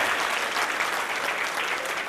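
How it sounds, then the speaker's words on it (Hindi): Audience at a district cabinet installation ceremony breaking into steady, dense applause that holds at an even level throughout, with no voices standing out. "ताली सबको दो साहब"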